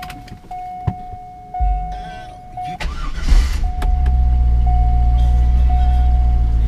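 A 2000 Chevrolet Corvette C5 starts up close by: a brief starter crank, then the V8 catches and settles into a steady, loud idle, with a thin electronic chime sounding before and after the start.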